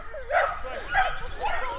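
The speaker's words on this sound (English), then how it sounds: "Look at all these little dogs here." Several small dogs, many resembling Dachshunds, yip and bark at a botanical garden, three bursts in close succession, moderately near, with faint background voices.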